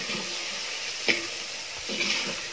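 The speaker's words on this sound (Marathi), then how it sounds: "छान कांदा कुरकुरीत होईपर्यंत परतून घेणार आहे" Onions frying in oil for a spicy Maharashtrian mutton curry, a steady soft sizzle with a couple of brief stirring scrapes and clinks, close and alone.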